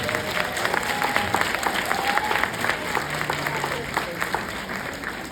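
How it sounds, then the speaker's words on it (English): Audience at a county council prayer breakfast applauding steadily and continuously, a dense room-filling clapping with some voices mixed in, fairly distant and even in level throughout. "Would you just clap for whoever's sitting at your table?"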